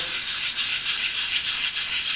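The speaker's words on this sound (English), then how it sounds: "Once you're done sanding the spot filler away" Steady, rhythmic hand sanding of spot putty on an Iron Man helmet build, a close, continuous gritty rasp with even back-and-forth strokes and no talking.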